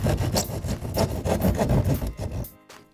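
A hand saw rasps through drywall, enlarging a hole into a neat rectangle for a patch repair, with steady back-and-forth strokes close by that stop near the end.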